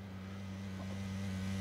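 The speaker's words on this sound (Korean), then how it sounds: "버기 들어옵니다." An off-road buggy engine in the battle royale game PUBG drones steadily with a low, constant hum, holding at moderate loudness and edging closer and slightly louder over a couple of seconds, with no talk.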